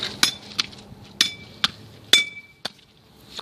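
A camcorder being smashed with a hammer and a bat gives sharp, separate metallic and glassy clinks, about seven blows at an uneven pace, close and alone.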